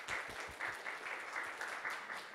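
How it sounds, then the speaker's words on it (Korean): Soft applause from an audience, a steady patter of clapping hands heard from a distance. "이 틈에서 그 주최 측에 저희 한번 박수 같이 한번 보내드릴까요?"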